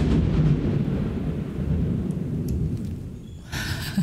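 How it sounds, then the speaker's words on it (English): Deep rumbling thunder rolls through a Monster Hunter World game scene, low and heavy, fading gradually before a brighter burst of effects near the end. "I think you heard that, right? The thunder."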